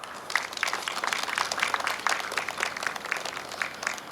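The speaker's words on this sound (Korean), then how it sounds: "박수 한번 쳐주시기 바랍니다." An audience at an outdoor groundbreaking ceremony for the Incheon Line 1 subway extension applauds. The clapping is steady, dense and moderately distant, and it keeps going without a break.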